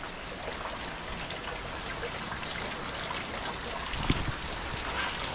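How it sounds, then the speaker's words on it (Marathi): Heavy rain falling outdoors during a windy downpour at a house, a steady dense patter and hiss throughout with a brief louder splash or knock near the end. "अचानक आता मोठा पाऊस आला आहे."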